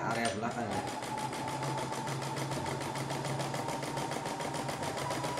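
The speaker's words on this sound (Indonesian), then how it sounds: "Ya, mesin sudah mulai jalan," A CNY E960 multifunction embroidery machine runs with a steady, rapid mechanical stitching rhythm throughout, loud and close, with a brief voice near the start.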